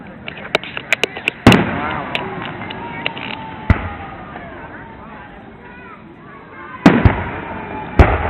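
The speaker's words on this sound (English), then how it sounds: "Big fireworks." Large fireworks at an outdoor display burst in loud, sharp booms, two big blasts standing out among smaller pops and crackles, with excited voices and cheers around them.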